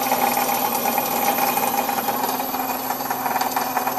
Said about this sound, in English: here it's doing a trim cut, so it's cutting my scraps so my feeder knows exactly I'm zeroed out to know my length